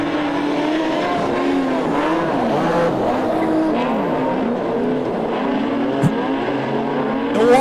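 Modified production race cars circling a speedway at night, engines droning loud and continuous with pitch rising and falling as drivers feather the throttle, with occasional faint tyre noise.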